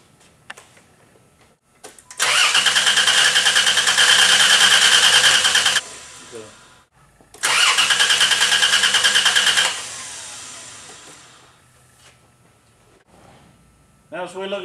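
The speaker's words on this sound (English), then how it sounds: "Let's crank the engine on that." Starter motor on a 1998 Dodge Caravan cranks the engine in two sustained bursts of about four and two seconds, a loud steady whirring drone with a short pause between them, close by.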